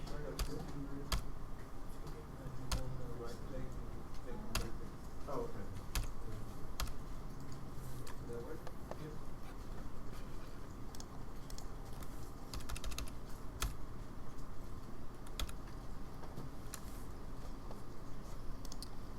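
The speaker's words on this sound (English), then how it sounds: "if you hold shift and click the greater than symbol on your keyboard" Computer keyboard keys tapped in short irregular bursts while pressing shift and the greater-than shortcut during 3D rigging work, soft clicks under a quiet, steady background with a voice talking over them.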